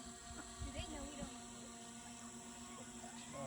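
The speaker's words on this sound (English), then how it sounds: "They hear the drone, I think." A drone flies over a pasture holding hens and meat birds, giving a steady, even mechanical whine with a constant pitch for the whole stretch. Faint background sounds sit beneath it.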